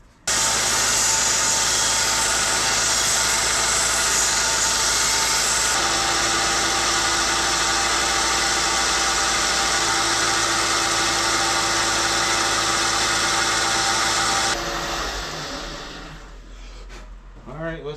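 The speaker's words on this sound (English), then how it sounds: "we're going to have to sand a little bit off of here" Power sanding of a wooden piece to trim it for a tighter fit, a steady loud whirring drone that runs continuously for most of the clip before winding down near the end.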